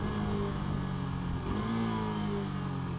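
A 2019 KTM RC 390 motorcycle engine revving under load, dipping and surging again as the throttle is rolled off and back on for a clutchless shift, loud and continuous with steady wind rush.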